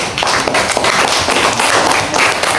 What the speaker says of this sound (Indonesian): Kita beri tepuk tangan untuk Hendra